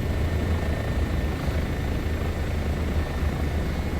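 A Bo 105 helicopter flying in Microsoft Flight Simulator 2024 gives a steady, loud rotor and turbine drone with a low thrumming pulse, constant throughout with no talking.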